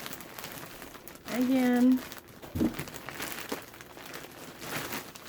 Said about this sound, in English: I like this plastic bag. They folded it down over and then sealed it on nice.